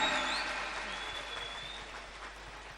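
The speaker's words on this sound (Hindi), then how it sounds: "जोरदार तालियां एक बार।" Clapping from guests at a Hindu wedding ceremony, a steady wash of applause that gradually fades, with faint voices underneath.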